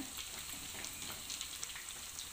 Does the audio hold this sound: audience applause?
no